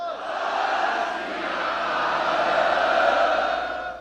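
A large gathering in a gurdwara roars back a Sikh jakara war cry, a loud sustained mass shout that swells and then fades over a few seconds.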